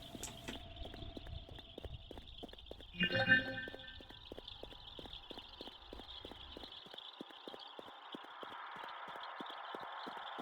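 Horse hooves in the Akuma Kira video game, a steady, evenly spaced clip-clop of walking steps that continues throughout, with a brief louder burst of noise near the start.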